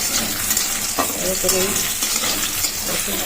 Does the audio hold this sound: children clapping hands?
no